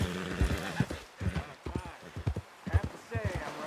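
Horse hooves clip-clop in a steady rhythm on a Red Dead Redemption 2 trail, close and fairly loud, with a voice and a brief whinny over the footfalls.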